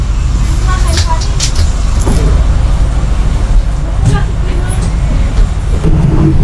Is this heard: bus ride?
yes